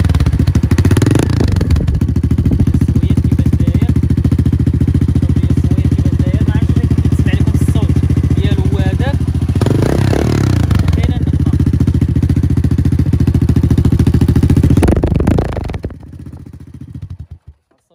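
A small moped engine idles loudly and steadily up close, with a brief rise around the middle before cutting out and fading near the end, while someone talks over it.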